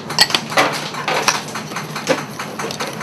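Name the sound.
whisking cake batter vigorously by hand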